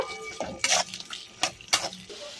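Fried broad beans and peas are stirred in a wok with salt and turmeric, a spatula scraping and clanking against the pan in a few sharp strokes over a low sizzle, close by.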